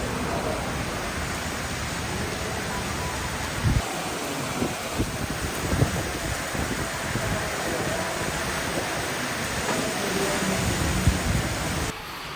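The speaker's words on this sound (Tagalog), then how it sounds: "Grabe yung buhos ng ulan." Heavy rain pours down steadily in a broadband wash with occasional low thumps, sustained and fairly loud throughout, no talking.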